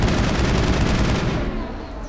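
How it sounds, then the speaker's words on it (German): Heavy, rapid gunfire bursts from an enemy boss in the Mass Effect 1 video game, dense and loud throughout before easing off slightly at the end. "Das ist Venesias Schüsse halt, die auch ziemlich heftig sind"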